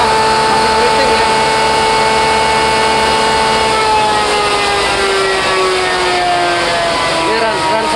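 A 2020 Yamaha NMAX 155 scooter runs on a dyno to warm its CVT, its engine whining in a steady, loud drone whose pitch climbs slowly and then eases off, with speech faint underneath.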